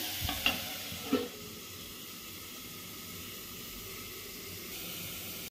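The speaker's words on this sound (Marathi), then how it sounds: "गवार चांगली परतून घेऊ आपण।" Cluster beans (gavar) sauté in a pan with a soft, steady hiss and sizzle, opening with a couple of brief stirring knocks and then settling into a faint, even frying sound with no talking.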